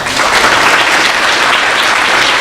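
Loud, dense round of applause from students at a business school recognition reception, continuous close clapping with no pauses.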